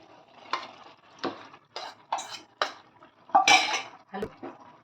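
Spoon scraping and clattering against a pot while chicken and rice for chicken tehari are stirred, several distinct scrapes at an irregular rhythm, close and moderately loud with no talk.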